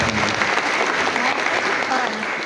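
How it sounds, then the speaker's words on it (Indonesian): Steady, loud audience applause at an Indonesian financial-education program event in Sukabumi, a dense wash of clapping that holds evenly for a couple of seconds with no pauses. "kita berikan tepuk tangan yang meriah untuk Bapak"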